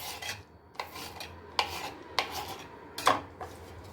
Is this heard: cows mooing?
no